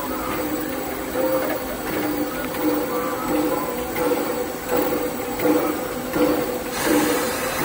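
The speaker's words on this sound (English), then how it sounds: "what you're hearing is our steam-powered air compressor" Steam-powered air compressor on a Disneyland train locomotive, a steady hissing chug with rhythmic pulses roughly every second, mid-distance and continuous beneath the rolling rumble of the train.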